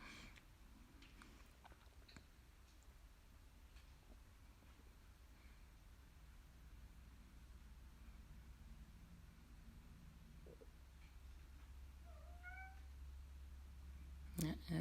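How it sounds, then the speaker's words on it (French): A small cat meows a few brief times against a steady low hum and background noise, the calls faint and spread through the middle of the stretch. "Un petit chat qui dit bonjour."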